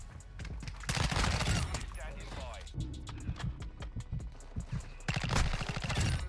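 Rapid automatic gunfire from the Chimera assault rifle in Call of Duty MW2, bursts of quick cracking shots with a pause in the middle, someone talking over the game sounds.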